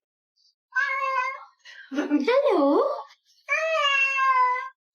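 A cat meows three times, close and clear, as drawn-out whiny cries with short pauses between; one call is lower and warbling, and a single short spoken word comes just before.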